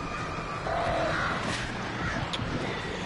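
Crows caw in the Alan Wake Remastered game, a few harsh calls faintly heard over a steady background hiss.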